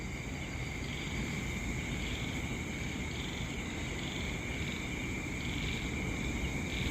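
A cricket chirps steadily and continuously alongside other insect and frog-like night calls, a faint, even drone with no voices.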